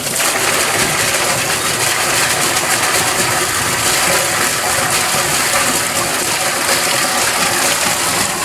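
A garden pond filter pump runs steadily and loudly, its constant whirring hum mixed with rushing water and no break over the whole stretch.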